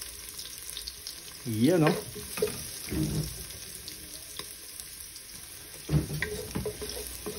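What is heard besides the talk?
garlic frying in oil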